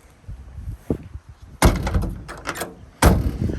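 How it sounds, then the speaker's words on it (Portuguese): A door on a 1969 Ford F100 pickup slams shut twice, close and loud, each a heavy metallic thud with a short rattle after it. "A porta tem que bater com força"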